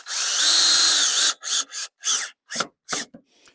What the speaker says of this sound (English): I'll just drive a couple of drywall screws down through the top here.